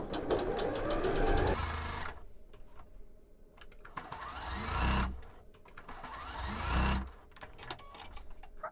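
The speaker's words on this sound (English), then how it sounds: "I'm just going to sew these together in rows using a 1/4-inch seam allowance." A sewing machine chain-stitches small Ohio Star quilt block pieces in rows with a quarter-inch seam, whirring in a long run at the start and then two shorter bursts separated by quiet pauses.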